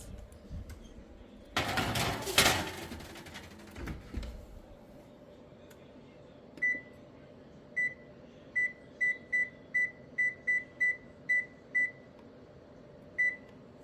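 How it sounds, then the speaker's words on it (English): A series of short electronic beeps, about ten in a row at a quick uneven pace, following a burst of rustling and clatter over a low background hum. "When it beeps, we're gonna put it in the oven for 10 minutes."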